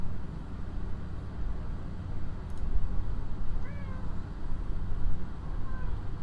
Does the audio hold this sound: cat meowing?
yes